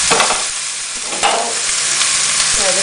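Browned meat sizzles loudly in a hot pan while being stirred, a continuous bright crackle with scraping stir strokes and a sharp burst of spitting partway through, close and alone.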